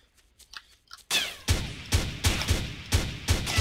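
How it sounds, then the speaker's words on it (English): Shots ring out in a shooter game, six or seven sharp reports spaced roughly half a second apart, each loud and close, after a brief quieter stretch of faint clicks. "I guess I should shoot him"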